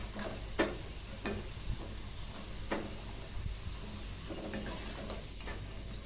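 Potato french fries deep frying in hot oil at home, a steady low sizzle running throughout with a few faint stirring clicks and taps, no talking.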